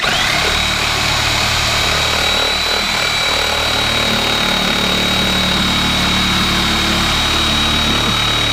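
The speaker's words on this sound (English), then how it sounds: "This is called a sawzall." Sawzall reciprocating saw running. A loud, constant motor drone with a high whining tone fills the whole stretch without a break.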